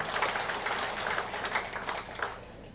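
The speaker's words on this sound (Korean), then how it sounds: "이럴 때 남자가 박수 치는 거예요" Men in a lecture audience clapping together, a dense burst of applause that holds steady for a few seconds and thins out at the end.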